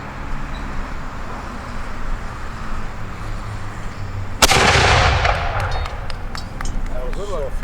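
A black-powder cannon fires once at a militia muster demonstration, a single loud sharp blast partway through that rolls into a long echoing rumble outdoors amid crowd and traffic noise.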